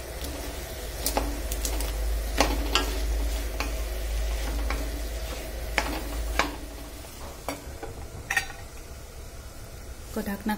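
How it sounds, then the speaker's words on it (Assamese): Fried fish heads are stirred and mixed in a pan, a spatula scraping and knocking against the metal in sharp, irregular strikes over a steady low sizzle and hum close by. "মাছৰ মাথাকেইটা এতিয়া ইয়াত দি দিলো ইয়াত মিক্স কৰি পেলাই অকনমান"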